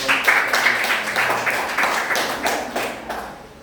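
Classroom applause for a student group presenting on a rice-field ecosystem food chain, with scattered uneven claps and taps from a small group of classmates, moderately loud and continuous throughout.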